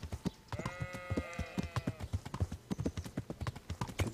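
Horse hooves clip-clopping at a steady walking rhythm in the Kingdom Come: Deliverance video game, close and clear, with a brief bleat-like animal call partway through and no talk.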